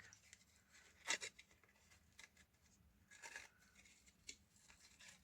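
Scissors cutting paper for a tag template, a few faint, close snips and rustles spread over a few seconds, with no talking.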